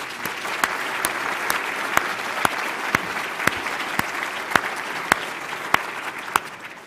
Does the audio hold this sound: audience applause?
yes